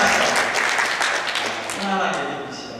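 A church congregation claps together in a steady wash of applause, strongest at the start and easing off, with a voice speaking over it.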